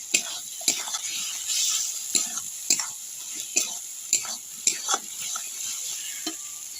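Chopped tomato sizzles in a pan with fried ginger garlic paste for Bengali chicken kosha, while a spatula scrapes in regular sharp strokes about twice a second, close and clear.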